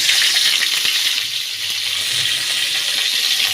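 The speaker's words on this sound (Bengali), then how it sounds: "তো চলো শুকটিটা ভাজা ভাজা হয়ে গেছে" Dried fish fries in hot oil with a steady, loud broadband sizzle that runs the whole time, broken by a few faint clicks of a utensil, with no talking.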